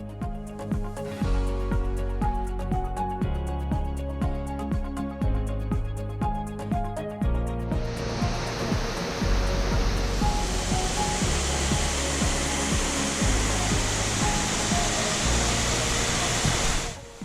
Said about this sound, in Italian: la cascata di Ansavari, che sgorga direttamente nella baia davanti alla nostra barca